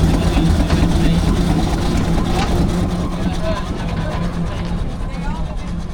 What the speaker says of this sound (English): Looks like a Wallace Patent steam engine going past.